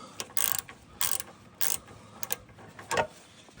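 A ratchet works loose a bolt on a 4Runner's suspension with Bilstein shocks, giving short bursts of close, crisp clicking in several separate strokes with brief pauses between them.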